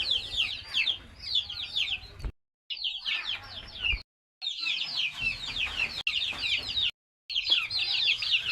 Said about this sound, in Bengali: এইখানে আমি ছোটো মুরগির বাচ্চাগুলো রাখবো